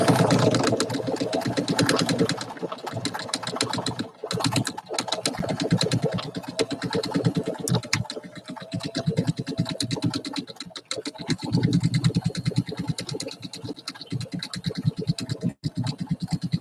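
Sewing machine stitching tail straps, a rapid, continuous mechanical chatter of needle strokes close by, broken by a few brief pauses and shifts in speed as the fabric is fed.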